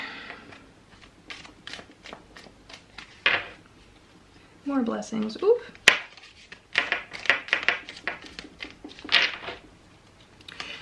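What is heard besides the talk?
shuffling a deck of cards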